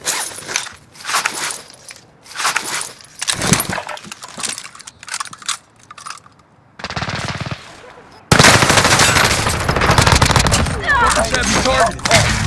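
Gunfire in a multiplayer shooter game, rapid machine-gun bursts in separate clusters early on, then a loud sustained barrage of shots near the end, with game voice callouts mixed in.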